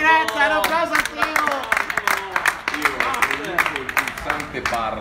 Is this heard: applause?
yes